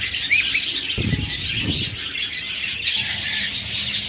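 Pet budgerigars or lovebirds chirp and tweet in quick, high bursts close by, with a soft flutter of wings and low thumps in the cage.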